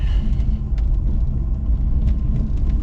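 A vehicle engine lugs at low RPM in second gear while climbing hills near 15 mph off Dead Indian Highway, giving a steady, heavy low rumble throughout with small surges and faint clicks above it.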